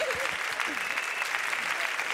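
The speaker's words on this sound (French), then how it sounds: "Un grand applaudissement" Audience applause fills a dance audition venue, steady and dense clapping throughout with some scattered voices mixed in.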